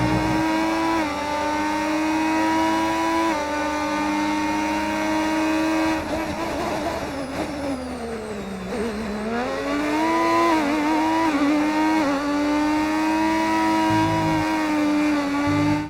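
Race car engines from the F1 25 video game running a 1986 Formula 1 mod scream loudly and continuously, with engine pitch dipping and climbing through gear changes and corners.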